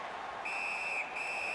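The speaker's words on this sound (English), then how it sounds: "And the referee's whistle has stopped play." A referee's whistle stops play in an ice hockey game, a sustained shrill blast cut by a brief gap and resuming, heard alone over faint arena ambience.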